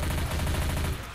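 Rapid automatic gunfire chatters in Left 4 Dead 2, a dense, steady burst of evenly spaced shots lasting about a second, loud and close with no talk over it.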